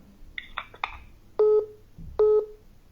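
A handful of short phone dialing tones are followed by two longer, steady electronic beeps of a telephone call, loud and close, with a soft thud between them and no talking.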